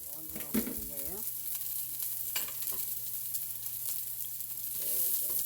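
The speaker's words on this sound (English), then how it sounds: "This is just a medium onion cut up, medium high heat." Chopped medium onion frying in a pan over medium-high heat, a steady close sizzle with a few stirring scrapes, while someone talks briefly over it at the start and end.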